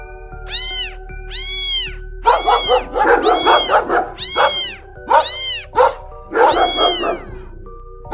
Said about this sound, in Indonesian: dia melihat kucing kecil yang diganggu oleh 3 anjing bulldog besar